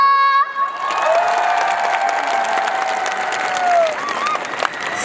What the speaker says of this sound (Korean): 우리 모두 힘내라고 한 번 더, 자, 박수와 함성!